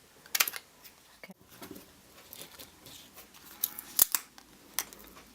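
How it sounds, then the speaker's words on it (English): Scissors snip through card stock to cut it in half, quiet close crisp cuts in a few separated clusters with soft paper rustling between them. "So I'm just going to take this and some scissors"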